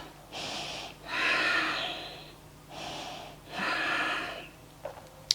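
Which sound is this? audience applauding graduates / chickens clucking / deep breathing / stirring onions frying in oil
deep breathing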